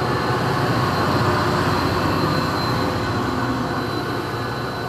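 Steady rumble of a passenger train running with the engine car pushing it, continuous wheel and motor noise with a faint high whine, heard from inside the carriage.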